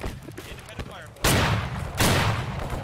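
Volleys of musket gunfire ring out in the Civil War game Battle Cry of Freedom during a Gettysburg event: scattered distant cracks, then two loud, close bursts of massed fire, with voices faintly underneath.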